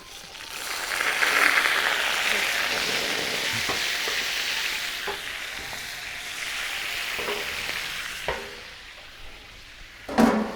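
Veal liver dropped into a pan of oil for Armenian tzhvzhik: a steady bright sizzle that swells as the meat hits, with occasional clinks and stirring knocks, close and alone.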